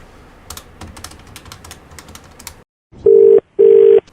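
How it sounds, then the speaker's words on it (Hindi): Keypad presses tapped out in quick irregular succession, then a brief silence followed by two long, loud ringback tones on a telephone line, each separated by a short gap. "फोन मिलाओ"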